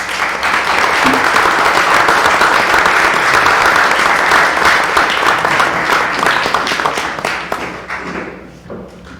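Audience clapping at a town board regular meeting, a loud, sustained burst of many hands with some near, sharp claps standing out, continuing evenly before fading away at the end.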